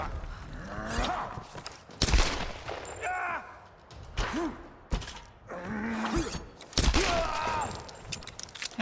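Gunshots from the 2013 Tomb Raider game crack in sharp bursts, several separate shots and short volleys spread across the stretch, with a voice talking between them.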